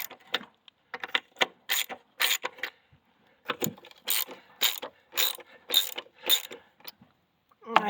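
Socket wrench ratcheting on a rusty, mud-caked axle bolt of a John Deere 240 skid steer: close, crisp clicking bursts in uneven runs with short pauses between strokes, fairly quiet overall.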